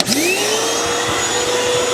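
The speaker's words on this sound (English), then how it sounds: "one thing you want to do here is you have a little vacuum" A shop vac runs inside a Masterbuilt Gravity Series 1050/560 charcoal grill, a steady loud motor whine with a rising pitch as it spins up, continuous and close with no talk.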